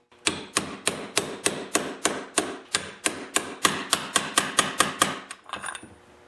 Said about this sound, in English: I'm going to use a much bigger socket now and go in there and push it in.